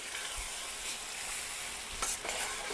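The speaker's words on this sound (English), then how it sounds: "we're going to add the tomatoes right into the garlic and the pepper juice that's in there" Tomatoes sizzle and fry in a pan with garlic and pepper juice, a steady close hiss with a brief stirring scrape partway through.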